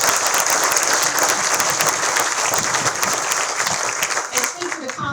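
Sustained audience applause at a college groundbreaking ceremony, thick and continuous, tapering slightly near the end, with faint voices underneath.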